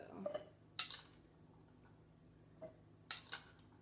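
Rinsed black beans scooped into a dish, a few sparse clinks and scrapes of a spoon against the bowl with soft gaps between, close and quiet in a still room.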